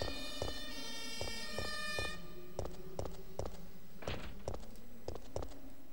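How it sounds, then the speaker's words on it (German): An ambulance siren wails outside in the PS1 video game Resident Evil 3, its tones sweeping behind a steady series of dull, heavy thumps. "Krankenwagen draußen, ne? Man hört es vielleicht."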